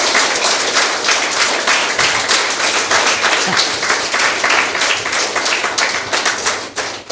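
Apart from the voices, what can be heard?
children clapping for two girls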